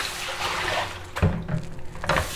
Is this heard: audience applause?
no